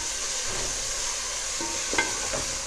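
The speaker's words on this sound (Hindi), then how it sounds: "इसको हम 2 से 3 मिनट की अच्छी तरह से भूनते हैं" Chopped moongre being sautéed in a pan for a potato-pea dish gives off a soft, steady sizzle, with a few brief stirring scrapes near the end.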